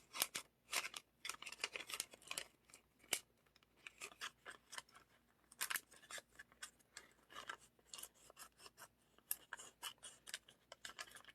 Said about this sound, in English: then I'm going to trim so that we don't have this excess hanging out of our card.